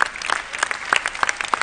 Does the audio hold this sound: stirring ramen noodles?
no